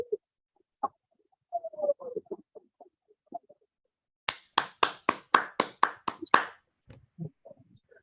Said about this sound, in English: And now we can clap again.